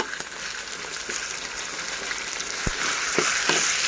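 Pork stir-fries in a hot pan with a continuous loud hiss and sizzle that swells slightly toward the end, punctuated by a few sharp spatula or utensil knocks.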